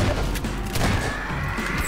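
A grenade blasts in a first-person shooter game, a loud, dense burst of explosive noise and crackling debris filling the whole moment, with no speech over it.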